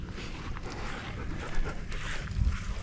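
A dog pants rapidly and close up, a breathy rhythmic huffing that continues steadily with outdoor background noise.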